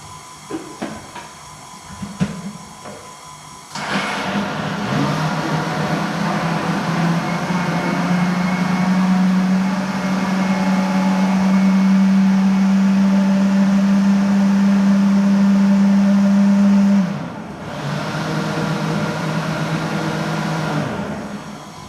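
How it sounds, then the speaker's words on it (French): Boilie bait mix of eggs and dry ingredients churns in a machine mixer, a loud, steady motorized whir with a low hum that starts abruptly, runs for over ten seconds, then drops in intensity. "Donc je vais mélanger tout ça pareil."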